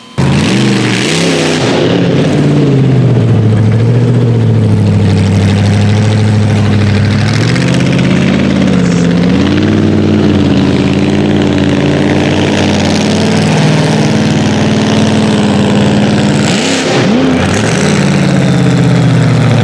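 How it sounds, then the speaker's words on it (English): A 1600 HP rock bouncer off-road truck engine rumbles loudly at night, idling deep and steady with a couple of rising revs early on and again near the end, close and continuous with no talk. "this thing sounds like a monster truck"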